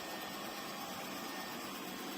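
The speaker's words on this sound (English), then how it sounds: "And as you can listen, it's a quiet vacuum cleaner." A quiet vacuum cleaner runs with a steady, even broadband whir that holds at a low level throughout, with no talking over it.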